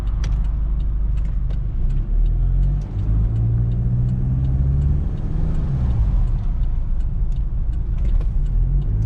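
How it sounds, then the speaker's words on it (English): A 1992 Mitsubishi Delica Chamonix L300 4WD diesel van engine drones loudly from inside the cab, its pitch rising as it picks up speed on a freeway over a steady road rumble. "So getting up to speed here on the freeway."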